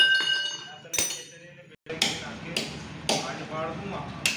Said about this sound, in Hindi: ये फिराइल के बोल्ट इस तरीके से टाइट हो रही है।